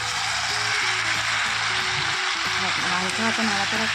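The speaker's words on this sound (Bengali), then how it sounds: "তারপর ওর মধ্যে ভেজে রাখা চিংড়ি মাছগুলো দিয়ে দেবো। দিয়ে তারপরে কাটা পুঁই শাকগুলো দিয়ে দেবো। দিয়ে হালকা হাতে নাড়াচাড়া করে" Fried prawns and chopped Malabar spinach stirred in a hot pan, producing a steady close hiss of sizzling throughout while a person talks over it.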